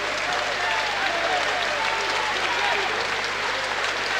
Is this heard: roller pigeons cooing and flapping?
no